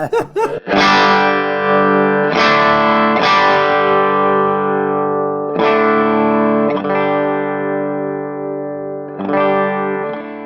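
Heavily distorted electric guitar chords through a custom Marshall-style amplifier ring out loudly, struck several times and left to sustain with an aggressive amplified tone.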